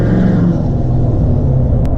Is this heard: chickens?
no